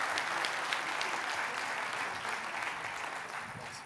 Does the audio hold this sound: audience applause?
yes